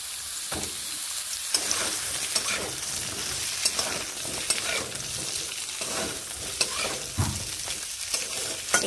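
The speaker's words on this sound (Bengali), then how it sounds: "আলু তুলে নিয়ে বাকি তেলে আমি ঝিঙেগুলো ভেজে নিচ্ছি।" Sliced ridge gourd fries in the hot oil left over after potatoes, giving a steady loud sizzle broken by repeated scraping stirs and clatter of a utensil in the pan, with no talking.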